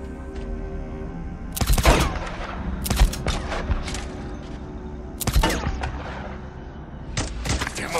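Gunfire in the video game Days Gone, several loud cracking shots spaced a second or more apart over a steady rumbling background, with fainter thuds between them.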